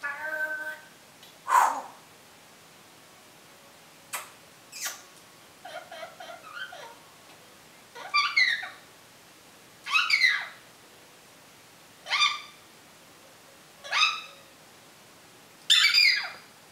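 A bird calls in short, squawky bursts against a quiet background, repeating roughly every two seconds, with a few softer chatters in between.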